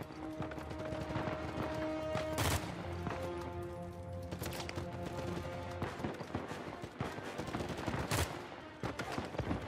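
Enemy gunfire in Uncharted 4 on Crushing difficulty: repeated sharp shots and bursts crack steadily over a busy, dense game soundscape with music, with a few especially loud blasts standing out.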